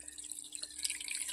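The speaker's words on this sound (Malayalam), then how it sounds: "കുറച്ച് വെള്ളം ഒഴിച്ചു കൊടുക്കുകയാണ്." A little water is poured into a beef rib curry, a brief soft trickle and dripping, quiet and close, with no voices.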